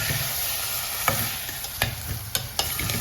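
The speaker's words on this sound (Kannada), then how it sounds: "ಇದನ್ನೆಲ್ಲ ಈಗ ಹಸಿ ವಾಸನೆ ಹೋಗೋವರೆಗೂ ಫ್ರೈ ಮಾಡ್ಕೊಳ್ಳೋಣ." Carrot and capsicum frying in a small cooker for vegetable korma, a steady close sizzle with occasional sharp scraping stirs of a spoon against the pan.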